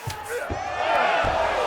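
A crowd roars in the UFC 5 video game, a surging cheer that swells over a few thumps from the fight.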